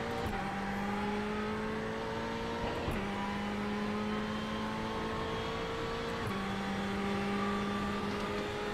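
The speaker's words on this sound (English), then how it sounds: "We're in the Ferrari GT3 car on iRacing at Imola." Ferrari GT3 race car engine in the iRacing sim at Imola, a steady loud mechanical drone with clear stepped pitch shifts at gear changes around three and six seconds, continuous and close with no talk.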